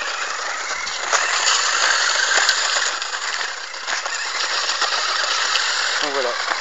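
A Nikko 4WD Red Arrow RC car motor whines as it accelerates, a high buzzing drone with rising and falling pitch, heard alongside people talking nearby.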